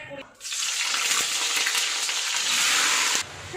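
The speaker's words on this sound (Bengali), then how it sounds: "ফ্রিজে একদম জল নেই বোতলগুলো ভরে দিই" Tap water running into bottles at home, a steady loud gushing rush that starts abruptly, holds for about three seconds with a slight rise as the bottle fills, then cuts off.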